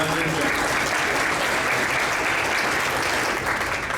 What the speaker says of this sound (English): Another round of applause for the amazing cheerleaders